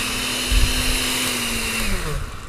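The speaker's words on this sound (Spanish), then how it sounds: "Vamos a licuar." A blender whirs steadily while mixing a Nutrimeal protein shake, loud and close, its motor pitch sliding slightly downward as the contents blend.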